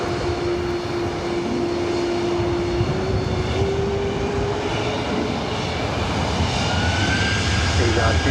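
Jet airliner taking off from runway 24 right at LAX, a loud steady engine roar with a rising whine, heard from nearby without a break.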